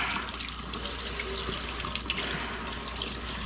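Tap water runs steadily into a sink while skinned squirrel pieces are rinsed under it, a continuous close splashing stream with small bursts of spatter and no talking.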